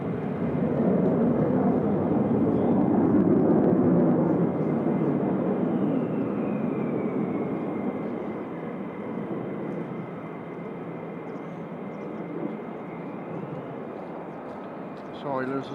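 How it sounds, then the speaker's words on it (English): Aircraft moving around RAF Lakenheath airbase, a steady broad engine roar from nearby jets that swells in the first seconds, then eases slightly and holds, with a faint rising whine above it. "I can hear other planes moving."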